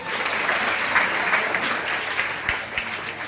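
A hall full of high school students claps loudly and continuously, a thick sustained burst of applause with a couple of sharper individual claps standing out near the end.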